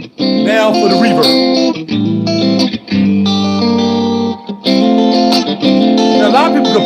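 Electric guitar played through a Vox AC15C1 Cream/Creamback limited edition combo amp with its reverb engaged, strummed chords and melodic lines ringing loud and full with a wet tail between phrases, no talking over it.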